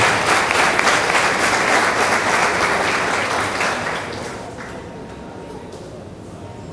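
Loud, dense audience applause for a futsal and physical education teacher at a school martial arts presentation, sustained then tapering off over the last few seconds.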